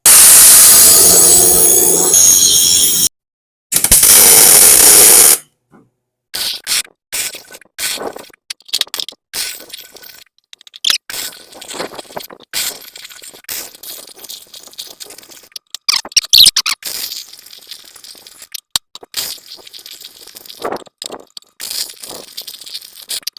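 Welding on a homemade B&W hidden-hitch style gooseneck hitch: a loud, steady hiss in two bursts, then a long run of irregular, close crackling and sputtering with brief pauses, no talking.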